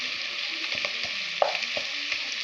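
Onions frying in plenty of oil for a crab curry, a steady close hiss of sizzling with occasional spatters and stirring clicks, no voices.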